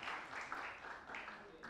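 Audience applause at a youth talent event, a soft, continuous patter of many hands clapping together, heard faintly at some distance.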